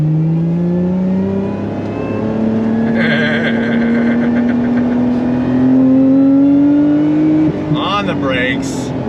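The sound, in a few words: Lotus Emira supercharged sports car engine accelerating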